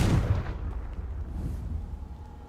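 A Confringo spell explodes in the Hogwarts Legacy video game, a single deep boom that bursts at the start and then rumbles away.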